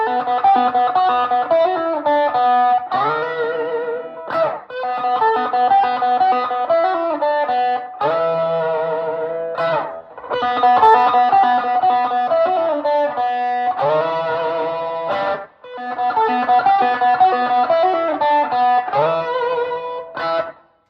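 Electric guitar, a Gretsch, through overdrive pedals, with overdriven, distorted tone playing chords and riffs continuously, loud and close, with brief breaks between phrases.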